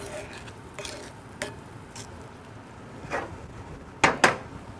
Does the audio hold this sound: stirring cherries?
yes